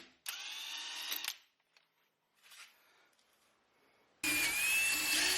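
An impact wrench tightens wheel nuts in two loud, close bursts, one near the start and another that cuts in at the end, separated by quieter clicks and handling noise.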